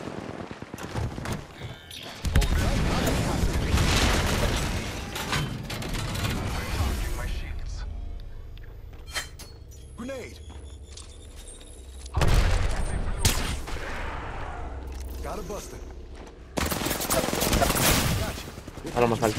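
Gunfire in the shooter game Apex Legends, with loud bursts of rapid automatic fire and sharp cracks in several clusters, separated by quieter stretches of game sounds, with a player's voice talking at times.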